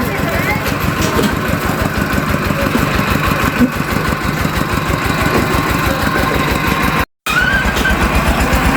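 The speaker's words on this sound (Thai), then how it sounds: "รถบรรทุกไปแล้ว เร่งเครื่องหน่อยค่ะเร่งเครื่องหน่อย" A truck engine rumbles close by with a steady, throbbing pulse, holding a constant idle-like rhythm that cuts out briefly before resuming.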